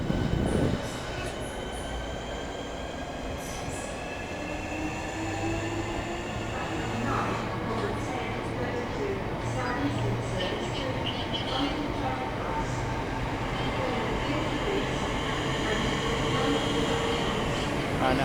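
A Class 465 electric train, unit 465007, departs for Gravesend with a steady loud rolling rumble and faint wheel squeal, while a voice talks over it at a busy station.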